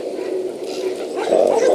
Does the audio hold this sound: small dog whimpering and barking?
yes